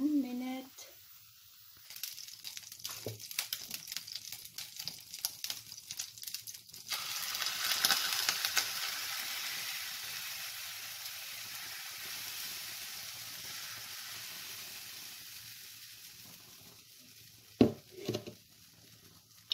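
A keto pancake cooking in a pan, a faint steady sizzle that swells into a louder hiss after it is flipped, then settles, with a voice talking over it and a few clattering knocks near the end.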